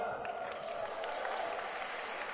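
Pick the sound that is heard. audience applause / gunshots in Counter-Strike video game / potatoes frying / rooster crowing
audience applause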